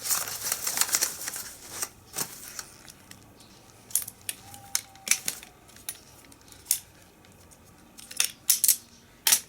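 Metal tent poles of a Helinox Cot One are slid and packed into a stuff bag, giving scattered light clinks and rattles over a rustling nylon background, close by and with no speech.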